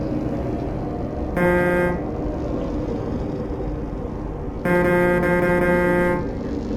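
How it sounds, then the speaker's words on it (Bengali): Two long, loud truck horn blasts from Euro Truck Simulator 2, the first short and the second about twice as long, sounding over a steady engine and road drone. "আজকের স্পেশাল হর্ন"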